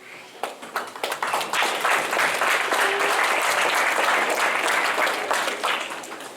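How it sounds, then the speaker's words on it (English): Audience at a Grant High School orientation gives a round of applause, scattered claps building into dense, steady clapping that holds for several seconds before tapering slightly. "let's give them another round of applause"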